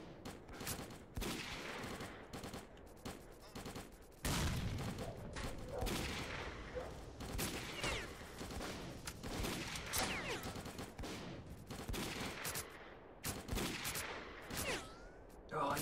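Gunfire in S.T.A.L.K.E.R.: Call of Pripyat, with sniper rifle shots in a fight against an enemy in an exoskeleton, comes as repeated sharp cracks and bursts, fairly loud, over a busy battle din that lasts the whole stretch.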